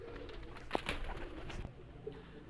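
A male pigeon offered for sale coos in short, soft throaty bursts close by, with light rustling and handling noise around it.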